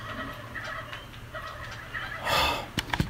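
A turkey gobbles in the video game How to Survive 2, sharp rattling gobbles over a low game hum, building to a louder burst and then a few quick sharp calls near the end.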